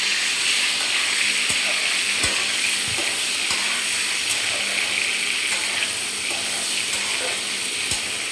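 Raw banana pieces frying in oil in a pan with bay leaf, giving a steady close sizzle broken by occasional sharp clicks of a utensil against the pan; no talking.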